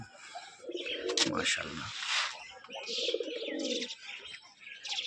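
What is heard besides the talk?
jag pigeon male cooing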